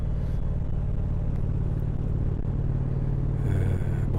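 Indian Roadmaster motorcycle riding onto the Paris périphérique ring road near Porte Maillot, a steady low engine rumble close by throughout, rising slightly louder near the end with traffic noise around.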